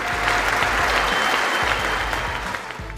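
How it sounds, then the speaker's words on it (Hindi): Loud, sustained applause fills the chamber as US lawmakers in Congress stand and clap together, a dense steady roar of hands that tapers slightly toward the end. "तालियों की गड़गड़ाहट से पूरा सदन गूंज उठा"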